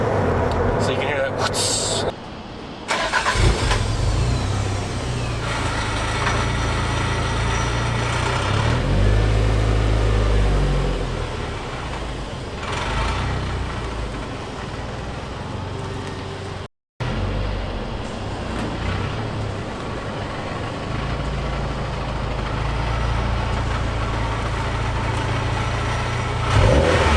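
A Toyota MR2 Twin Turbo engine running and revving nearby, a sustained loud drone that rises and falls with revs, with a brief cut partway through and talk over parts of it.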